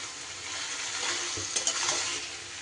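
Boiled spinach being stirred together with a hilsa fish head in a frying pan, a steady soft sizzle with scraping spoon strokes that grow a little busier near the middle, no voices.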